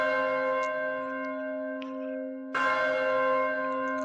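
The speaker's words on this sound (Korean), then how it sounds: "아침 종소리인가?" A church bell tolls in the video game Happy Saint Sheol: a sustained ringing tone is struck again halfway through and resonates on, with no other sounds around it.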